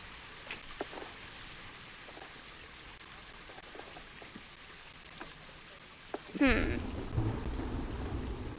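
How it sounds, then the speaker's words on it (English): Rain and thunder from the weather in the zoo-building game Planet Zoo: a quiet wash of rain with scattered light ticks and pops gives way to a loud rolling thunder crack that swells into heavy, rumbling rain near the end. "It'd help if it would stop raining"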